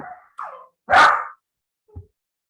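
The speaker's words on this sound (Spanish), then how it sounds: "Mire que con lo que dijo alborotó el perrito." Small dog barking indoors: a few short yips followed by one louder, sharper bark and a faint low woof, separated by brief silences.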